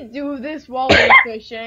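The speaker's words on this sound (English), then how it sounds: "No, I am sneezing." A single abrupt, harsh sneeze bursts out in the middle of casual talk, with voices speaking just before and after it.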